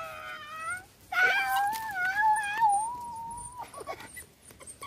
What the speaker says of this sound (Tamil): ஃபீமேல் நாய்க்குட்டி.